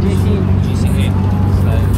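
A Honda Civic at the Daikoku JDM car meet gives off a nearby engine rumble under people talking loudly over it.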